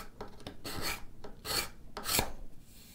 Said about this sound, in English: Let's just do the last smoothing with the card scraper.